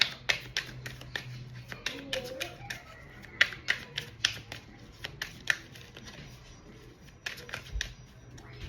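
A tarot deck being shuffled by hand: quiet, close riffles and soft card taps in irregular bursts, with a low background hum and no speech.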